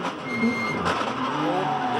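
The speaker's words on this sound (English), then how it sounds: "Listen to the engine." A Porsche Carrera Cup race car at Winton, heard onboard, its engine droning steadily under a broad roar of wind and road noise, with a brief rough break near the middle that fits a clunky gear shift.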